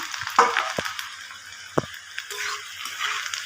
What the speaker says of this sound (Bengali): আমার পেঁয়াজগুলো ভাজা ভাজা হয়ে গেছে।